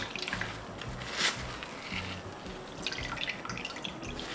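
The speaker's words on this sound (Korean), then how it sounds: "망에다가 짜줄게요" Liquid from ingredients for cabbage water kimchi drips and trickles into a bowl as they are squeezed through a mesh bag, a close, steady patter of small wet drops with faint splashes and no talking.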